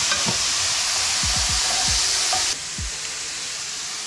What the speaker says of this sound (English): we'll give this a stir. Maybe just add a bit of veggie stock just to get a bit liquid.